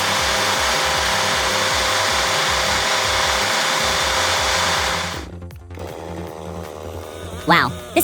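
A chainsaw felling a tree roars in a loud, steady drone for about five seconds, then cuts off abruptly, leaving quieter scattered sounds.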